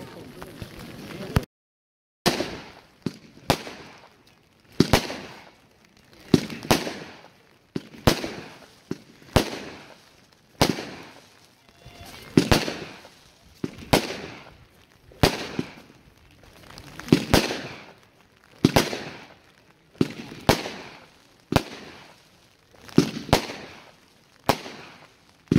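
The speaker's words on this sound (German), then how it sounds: "Eine Multicolor-Batterie mit gigantischem 360-Grad-Finale." A multicolor fireworks battery, 25 shots over 22 seconds, fires shot after shot in a steady rhythm at a music fireworks show, each sharp bang followed by crackling bursts, loud and continuing for the whole stretch.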